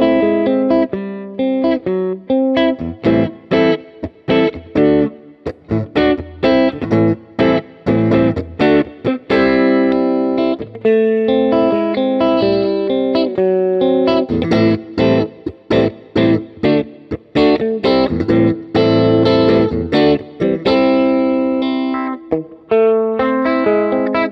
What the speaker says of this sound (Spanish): vamos a escucharla en sus tres posiciones con el canal completamente limpio para probar de qué están hechas sus pastillas Santana S